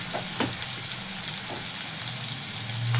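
Onions fry in a pan for a bitter gourd peel dish, a steady close sizzle broken by a few soft stirring clicks.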